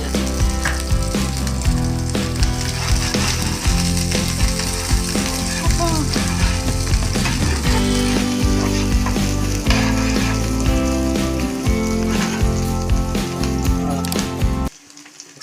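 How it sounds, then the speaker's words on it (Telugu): Green chillies fry with shredded cabbage and carrot in hot oil for egg Manchurian, a dense, loud, steady sizzle with stirring that cuts off abruptly near the end. "తర్వాత పచ్చిమిర్చి కూడా కొన్ని వేసుకొని ఫ్రై"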